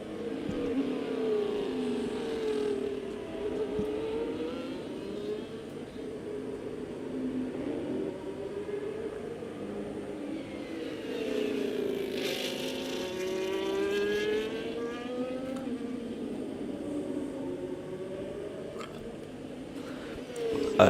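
Race car engine on a qualifying lap in a sim racing game, heard as a continuous onboard drone that climbs and falls with each gear change and corner. The engine is steady and moderately loud, with a brief louder rise near the middle.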